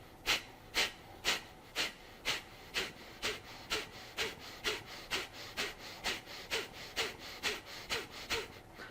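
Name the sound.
forceful exhaling breathing technique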